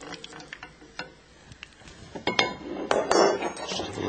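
Crisp beer batter being scraped and tapped with a metal spoon, producing a series of sharp clinks and brittle crackly scrapes, close and fairly quiet, growing busier toward the end.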